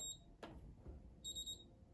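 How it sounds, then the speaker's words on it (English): An electronic safe being reset to factory settings gives a short high beep, then after a soft clunk a quicker series of bright beeps, close and clear with no talking. "When it's beeping and flashing"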